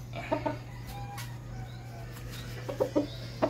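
Sweater Kelso chickens cluck in short, scattered bursts close by, soft grouped clucks near the start and again toward the end, over a steady low electrical hum.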